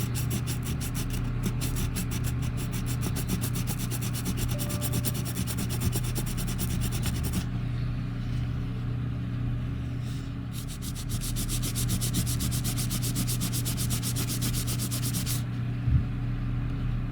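Putty is sanded by hand on a 1979 AMT Star Trek U.S.S. Enterprise refit model kit: close, rapid back-and-forth scratchy strokes in two long bursts separated by a brief pause, with no speech.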